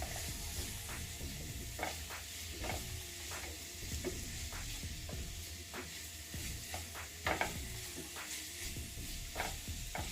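Pieces of drumstick, three medium-sized ones, being stirred into masala in a pan: a close, steady sizzle broken by repeated scraping and clacking stirring strokes at an uneven rhythm, with no voices.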